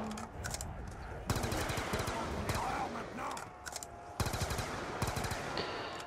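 Gunfire from the N94 weapon in Black Ops 2 Zombies on the Die Rise map, heard as loud repeated bursts of rapid automatic shots with game sounds in between.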